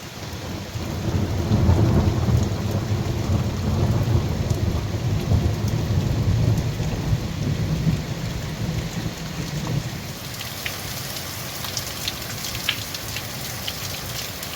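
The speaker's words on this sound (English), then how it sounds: "Well, that was the most amazing storm last night." A heavy night thunderstorm over a wild Welsh garden, with loud continuous rain and deep rolling thunder through the first part, easing to a lighter patter of raindrops; no voices.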